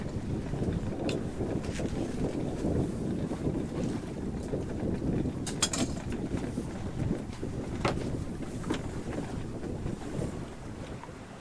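Sailboat running with all sails up in 12 to 13 knots of wind, making about 5 knots; steady broadband wind rush and water wash on the hull fill the whole stretch, with occasional creaks and knocks and no talk.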